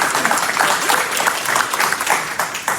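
Audience applauding for a city cheer program at a parks and recreation town hall, a steady dense roar of clapping hands from a crowd, loud and continuous throughout.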